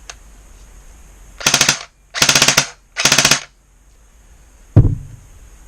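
Three loud bursts of full-auto fire from a Classic Army MP5 airsoft gun, each about half a second long, separated by short pauses, followed by a single sharp clack and rattle.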